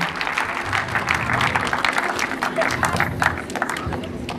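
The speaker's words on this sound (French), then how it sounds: "On vient applaudir tout le personnel de la CGR de Tarbes" An audience in a CGR cinema in Tarbes applauds the staff at a film premiere evening, with uneven, lively clapping and crowd noise and a voice speaking over the applause.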